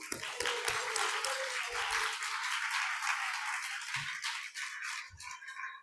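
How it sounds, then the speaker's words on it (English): Applause for the Palm Beach Symphony at a charity luncheon, a steady crowd clatter of clapping with a few low thumps and brief voices underneath. "Can we give a round of applause for Palm Beach Symphony?"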